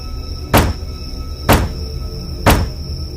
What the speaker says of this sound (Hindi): जैसे कोई दरवाजा जोर से पीट रहा हो।